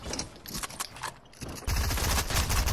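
Fortnite drum gun firing in rapid bursts, first sparser then a dense, loud sustained stream of shots in the final second, with no talk.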